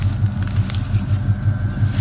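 A 1968 Pontiac GTO with its original 400 engine idling, a deep, loud, evenly pulsing rumble close up with no talking.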